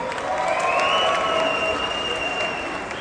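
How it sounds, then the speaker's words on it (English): Indoor crowd applause with some cheering at an import car show in an arena hall, a steady wash of clapping that fills the space for several seconds. "Give these beautiful two young ladies a round of applause."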